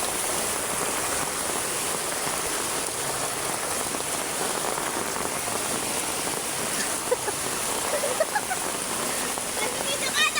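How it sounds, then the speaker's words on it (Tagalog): Heavy typhoon rain pours down on surfaces nearby, a dense, steady hiss of drops with brief splashes standing out near the end. "ang lakas ng ulan dito sa amin"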